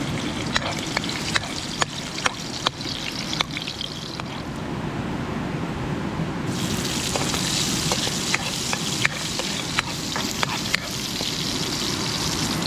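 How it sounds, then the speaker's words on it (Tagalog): Mushrooms sautéing in a hot pan give a steady, loud sizzle and crackle throughout, with occasional sharp ticks from stirring and a brief dip in the hiss partway through. "Ari po ginisa."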